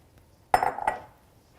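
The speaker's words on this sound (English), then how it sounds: "So I'll just stir it around a little." A single metal spoon knocks against a pot of vegetable pulao, one sharp clink followed by a second ringing tap, brief and close in an otherwise quiet moment.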